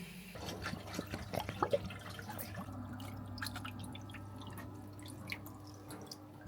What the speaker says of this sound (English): So I'm just going to fill the water up and we can give it a run.